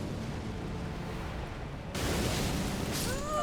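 A steady low rumble in Elden Ring breaks into a sudden, loud explosion that lingers as a broad crackling roar with faint whistling tones at the end.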